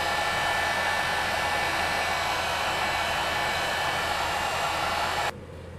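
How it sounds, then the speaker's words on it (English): A hot air gun blows steadily on a Lambretta engine's bearing housing, a loud, continuous broadband whoosh that drops abruptly in level just before the end. "So I'm going to heat it up with an air gun."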